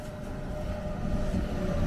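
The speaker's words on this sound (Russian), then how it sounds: "Вот и поезд так тихо идет" A train rumbles past slowly near Bergün in the Swiss Alps, a low steady rolling drone that swells slightly toward the end, no voices.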